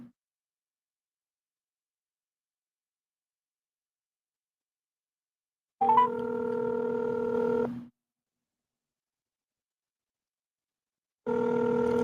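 Telephone tones on a radio show phone line, two sustained steady tonal bursts separated by silence, clear and loud with no talk over them.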